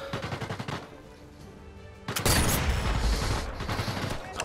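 Gunfire in the VR shooter Sniper Elite VR: a sudden loud burst of shots that breaks into sustained crackling fire, following quieter rhythmic game sounds.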